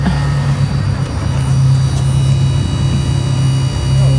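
Steady, loud hum of an Audi Skysphere concept car driving in sports mode, a constant low electric-motor drone with a faint whine and no breaks.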